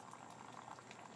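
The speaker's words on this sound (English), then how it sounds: "going to pour some tea now" Tea poured from a height into an ironstone cup, a soft, faint, continuous bubbling stream of liquid filling the cup.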